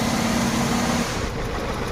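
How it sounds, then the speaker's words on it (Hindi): Hyundai Venue engine idling while misfiring on cylinder 4, a close, continuous rough engine rumble with a steady hum that fades partway through. "तो ये 4 नंबर पे भी अपना गाड़ी मिसिंग हो रहा।"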